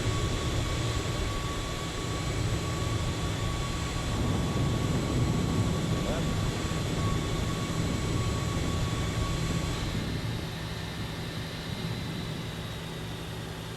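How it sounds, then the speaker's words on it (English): Steady whine and roar of an Avro RJ-100 jet engine starting up in a flight simulator cockpit, a constant hum with high tones that shift and fade partway through, no speech. "engine number 4 is starting up"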